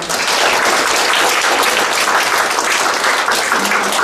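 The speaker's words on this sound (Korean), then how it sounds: "다시 한번 교수님께 큰 박수 부탁드립니다" A conference keynote audience gives a dense, steady round of applause, many hands clapping loudly and continuously with no pause and no voices standing out.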